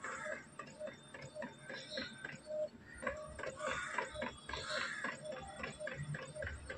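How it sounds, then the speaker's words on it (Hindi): Epson L3210 inkjet printer running a photo print in matte photo mode, with repeated mechanical whirs and shuttling print-head strokes in a steady rhythm, close by and moderately loud. "ये देखिए आप प्रिंट आउट निकल रहा है।"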